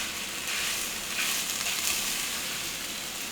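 Rice frying in a pan, a steady hiss and sizzle that holds at an even level throughout, close by and with no talk.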